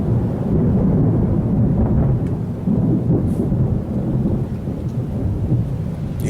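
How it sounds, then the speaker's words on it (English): Heavy rolling thunder during a rainstorm, a loud, deep sustained rumble that fills the whole stretch with rain hiss and some wind buffeting underneath, and no voices. "That was thunder."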